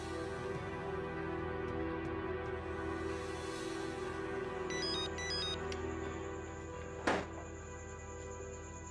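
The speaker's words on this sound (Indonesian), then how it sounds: "Telepon." A telephone ringtone rings in an Indonesian drama scene, a steady electronic melody under continuous background music, ending with a sharp click.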